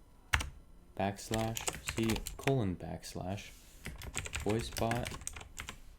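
Typing on a computer keyboard makes quick clusters of light key clicks, close by and mostly under someone talking.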